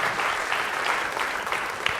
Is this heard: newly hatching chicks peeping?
no